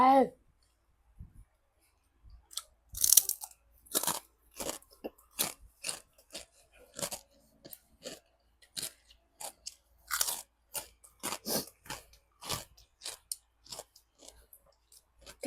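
Crispy fried pork being chewed close up, a run of loud dry crunches and bites in an irregular rhythm with short pauses between mouthfuls, no talk.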